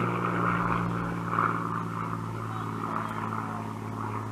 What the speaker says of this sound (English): There's an airplane